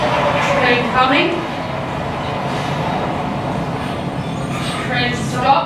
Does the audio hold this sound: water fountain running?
no